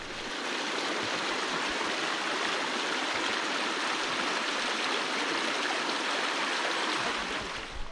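Continuous rushing water from Arethusa Falls in New Hampshire pours steadily, a broad even roar, with no voices.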